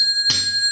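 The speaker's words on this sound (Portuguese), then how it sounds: "ative o sino da notificação" A bright notification bell chime rings once, a single clear ding with steady high tones that sustain and ring out briefly, alone and close.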